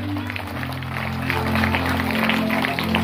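An audience at a school annual day celebration applauds, with dense continuous clapping that swells slightly partway through, while a voice sounds faintly underneath.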